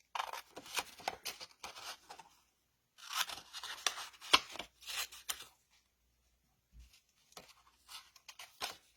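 Scissors cut paper chopstick shapes along straight edges in several bursts of close, crisp snipping and rustling, separated by brief pauses of near silence.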